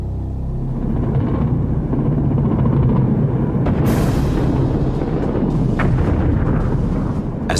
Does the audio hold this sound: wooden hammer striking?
no